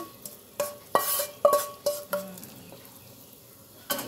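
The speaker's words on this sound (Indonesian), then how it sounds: "diaduk." Metal spoon stirring soup broth in a cooking pot for lontong balap, a series of sharp clanks against the pot rim at irregular intervals, close and alone with no talk.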